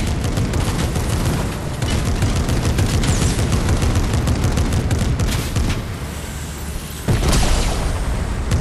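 Tank turret gunfire in Fortnite rattles on as a dense, loud, nearly continuous barrage, easing slightly for a moment before a heavy boom sets it pounding again.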